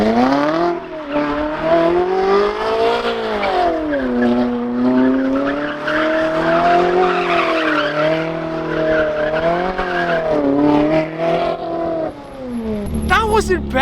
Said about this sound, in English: I might do donuts really well